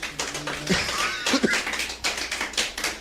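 A church congregation claps during a sermon. Scattered applause mixes with faint voices and brief exclamations from the crowd, producing an uneven, moderately dense wash of clapping.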